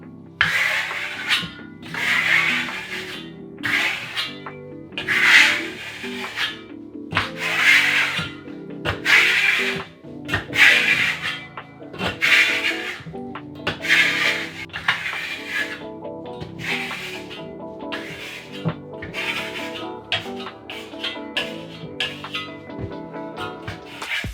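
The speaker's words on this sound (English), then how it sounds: "You don't have to use a burnishing trowel for burnishing, but obviously it's a little bit nicer, smaller size, a little bit less flex" A burnishing trowel scrapes rhythmically over a wall of matte Venetian plaster in repeated close, raspy strokes, roughly one per second, steady and alone without talk.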